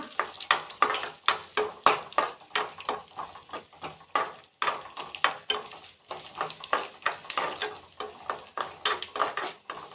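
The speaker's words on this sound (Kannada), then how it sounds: "ಗೋಡಂಬಿ ದ್ರಾಕ್ಷಿ ಮತ್ತು ಬಾದಾಮಿ ಆ ಮೂರನ್ನ ಯೂಸ್ ಮಾಡಿದ್ದೀನಿ ಸೊ ಇದನ್ನು ಸ್ವಲ್ಪ ಎಣ್ಣೆಯಲ್ಲಿ ಹಾಗೆ ಕರಿಯೋಣ" Cashews, raisins and almonds frying in a little oil, a steady close sizzle broken by repeated stirring scrapes and light clinks of a spoon against the pan, with no voices.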